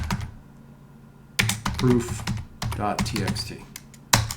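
Commands typed on a computer keyboard during a penetration-testing lab walkthrough, with quick bursts of keystrokes alternating with short pauses, close and moderately loud, and someone speaking over part of the typing.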